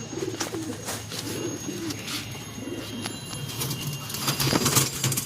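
Pigeons kept by a racing-pigeon fancier give repeated low, rolling coos close by, alone over a soft steady background with a few faint clicks.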